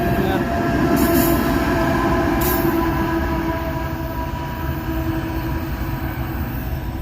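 A train hauled by a specially painted heritage locomotive rolls past in Logan County, Ohio, a loud continuous rumble of wheels on rail with a thin metallic squeal and a couple of brief high screeches near the start.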